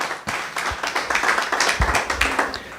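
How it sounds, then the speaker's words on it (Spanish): A church congregation bursts into loud, sustained applause, with dense hand clapping and sharper individual claps standing out close by. "Un aplauso a la palabra de Dios."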